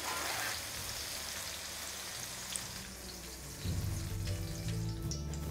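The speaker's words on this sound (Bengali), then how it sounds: "আর বেগুনের পরে আমি এখানে একে একে বাকি ভেজিটেবলগুলোও ভেজে নিলাম।" Vegetables fry one after another in hot oil after eggplant, a steady close crackling sizzle like rain on a surface that swells louder and thicker near the end, with no voices.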